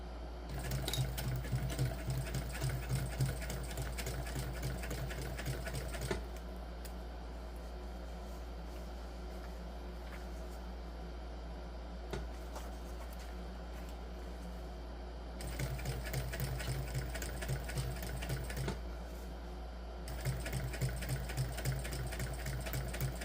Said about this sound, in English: And now we're just going to top stitch.